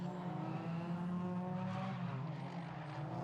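Ford Fiesta race cars in the BRSCC Fiesta Championship at Cadwell Park, with a steady engine drone that rises and holds at mid-distance and no voices heard.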